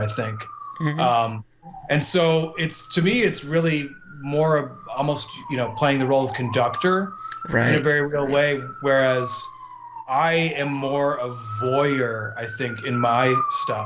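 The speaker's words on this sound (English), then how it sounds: "Sorry about the siren." A wailing emergency vehicle siren rises and falls repeatedly in the background on a New York street, steady and moderately loud beneath continuous conversation between two people.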